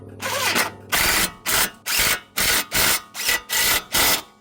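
A power tool drives strut assembly nuts snug on a Honda CR-V front strut, sounding as a rapid series of about eight loud, close bursts of whirring and ratcheting with short pauses between them.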